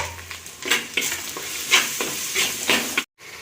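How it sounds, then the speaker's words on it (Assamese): Ginger garlic paste masala frying in a pan for a goat intestine dish gives a steady sizzle, with a spoon scraping and stirring it in repeated strokes, close and alone until a brief cutoff near the end. "মছলাটো ভালকৈ ভুনা হৈ গ'ল।"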